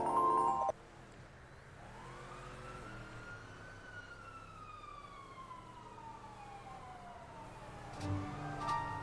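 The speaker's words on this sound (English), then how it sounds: "I hear the sirens roaring over the horizon" In a video game, police sirens wail and sweep in long rising and falling tones, approaching steadily at moderate volume, with a short burst of other noise at the start and end.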